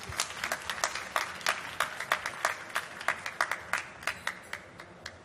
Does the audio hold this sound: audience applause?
yes